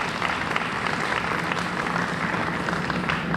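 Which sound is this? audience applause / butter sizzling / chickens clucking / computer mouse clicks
audience applause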